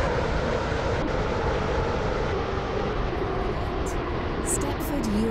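Stepford Connect train in a video game running steadily, a constant loud rumble of wheels and engine from inside the carriage, with faint brief chimes near the end.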